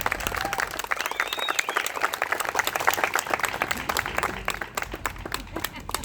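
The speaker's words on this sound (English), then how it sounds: "Let's give them all a big round of applause" A community crowd applauds with loud, dense clapping, individual claps distinct up close, joined by some cheering and a whistle before the sound tapers off.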